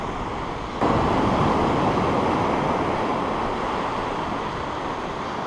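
Strong wind buffets an open-backed camera on a beach during a fishing outing, a loud, steady rushing roar that starts abruptly and continues without a break, with no talking.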